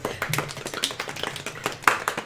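Several people around a tabletop Dungeons & Dragons session give themselves a brief round of applause, a loose scatter of sharp claps over about two seconds in a small room.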